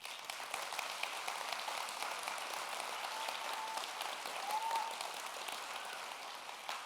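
Audience applause during an education talk on mindfulness and emotional intelligence, a sustained even patter of many hands clapping for about seven seconds, moderately distant and without talk.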